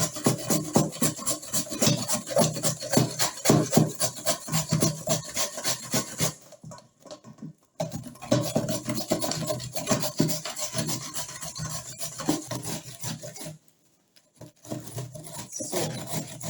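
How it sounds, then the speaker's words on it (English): Carrots are grated by hand on a small grater, a close, steady run of rough rasping strokes in quick rhythm, with two brief pauses between bursts and no talking. "So I'm going to be using this to grate my carrots with this side."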